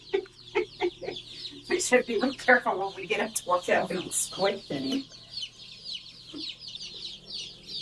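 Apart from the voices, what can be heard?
new chickens clucking while pecking at food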